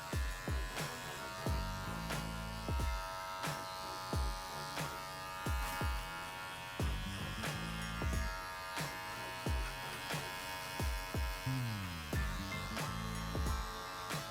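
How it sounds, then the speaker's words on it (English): An electric shaver trims coily hair while finishing a low fade: a steady buzz runs throughout, partly under rhythmic background music with a steady beat. "then I do the trim and shaver."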